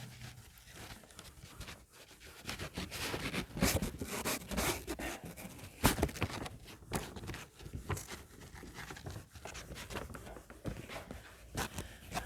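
Writing on a board is rubbed out in close, irregular bursts of scrubbing and scraping that rise and fall for about twelve seconds, with no one talking.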